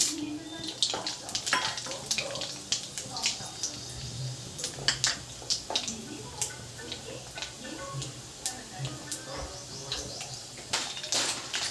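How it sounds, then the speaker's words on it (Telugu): Crackling, popping bursts of tempering seeds spluttering in hot oil, irregular and close, with occasional utensil clinks throughout. "ఆయిల్ వేడైపోయింది తాలింపు గింజలు వేసుకుందాం"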